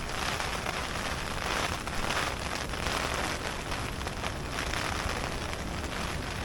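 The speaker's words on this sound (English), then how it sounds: "Bit of a squall. Squall coming through." A rain squall sweeps over Loch Etive, a steady dense hiss of rain pattering on surfaces, loud and close, unbroken throughout with no talk.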